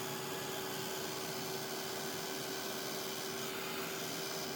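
A heat embossing tool blows a continuous, even whooshing hiss with a steady underlying tone over alcohol ink on plastic, with no pauses throughout.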